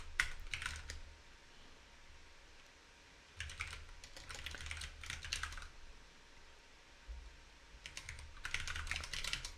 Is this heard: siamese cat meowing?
no